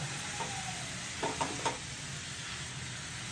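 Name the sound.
spinach added to gravy and stirred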